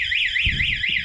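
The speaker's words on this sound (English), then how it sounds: "It's got remote start and an alarm." A Bashan Brozz 250 Chinese dual-sport motorcycle's alarm, set off by remote, sounds loud and close as a rapidly warbling electronic siren that sweeps up and down in a steady cycle.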